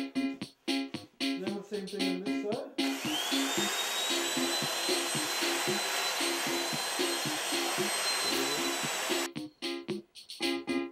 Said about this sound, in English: shaping the whole nose and tail using the belt sander